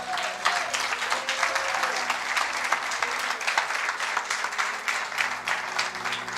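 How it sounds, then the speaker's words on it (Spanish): A church congregation applauds during a worship service, a dense, continuous wash of clapping that holds steady throughout at moderate loudness. "Dale un aplauso al Señor."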